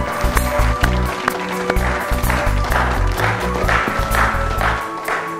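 An audience gives loud, sustained applause to welcome a guest onto the stage of a television quiz show, clapping steady and close throughout with music playing underneath.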